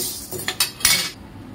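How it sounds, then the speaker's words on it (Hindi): Sago pearls being dry-roasted and stirred in a kadhai for sabudana laddu, with a few scraping, clinking strokes of a spoon against the metal pan over a soft rustling bed, fairly close. "इसको कढ़ाई में अच्छी तरीके से भून लेंगे"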